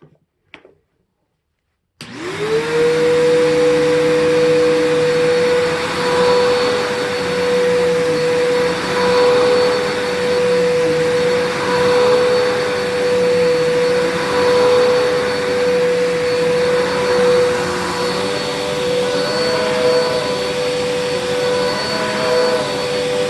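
2008 Bissell PowerForce vacuum cleaner switching on and picking up baking soda from carpet, a loud steady motor whine with a surging airflow roar that rises and falls slightly as it passes back and forth.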